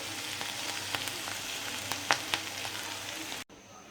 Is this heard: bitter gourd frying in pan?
yes